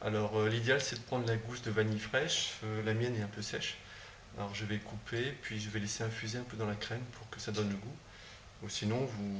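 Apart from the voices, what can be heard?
No distinct noise like a dog, phone or traffic.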